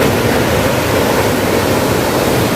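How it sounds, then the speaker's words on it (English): A river or waterfall beside a path near a reclining Buddha statue, roaring as a loud, dense, unbroken rush of water close by, with no other sounds over it. "I don't know if that's a river or a cataract or maybe a waterfall."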